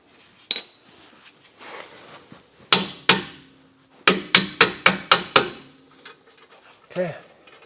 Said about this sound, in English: I'm going to put our nut back on the end here and give the bolt a little tap